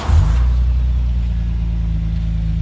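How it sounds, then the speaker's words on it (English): Custom Lexus IS300 fitted with a newly installed axle-back exhaust fires up, giving a brief loud burst at the start before it settles into a steady, deep, close-up idle rumble. "Fire her up, boys. Axle back exhaust just installed."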